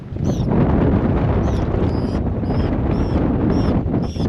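Strong wind roars steadily outdoors, buffeting the microphone with loud continuous low rumble, and faint high chirps recur throughout.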